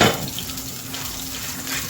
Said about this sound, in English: some water dropping in the oil.